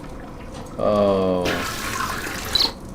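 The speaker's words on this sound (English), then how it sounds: "Flush." Toilet flush in the PC adventure game Chaos on Deponia: a short rush of running water that swells and drains away over a couple of seconds, with a brief voiced exclamation just before it.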